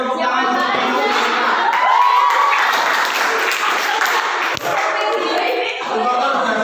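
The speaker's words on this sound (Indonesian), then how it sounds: "Beri tepuk tangan untuk kelompok" Schoolchildren in a classroom clap for a group in a dense, steady burst of applause that lasts throughout, mixed with shouting children's voices and an adult talking over the noise.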